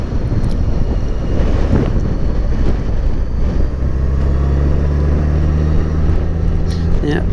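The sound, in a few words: wind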